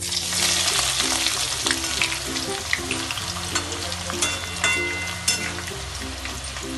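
Steady, loud sizzling of onions frying in hot oil, with a low musical hum running underneath throughout.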